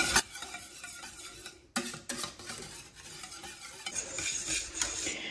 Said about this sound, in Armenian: ցածր իհարկե կրակը, ու անընդհատ խառնում ենք, մինչև եփվի կրեմը